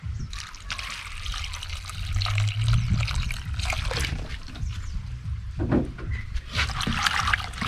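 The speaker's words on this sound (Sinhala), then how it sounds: "ඊට පස්සේ අපි වතුර ටිකක් දාලා" Water poured into a salted mixture for a traditional Sri Lankan village achcharu pickle makes a steady, close trickling and splashing that runs for several seconds with no voices.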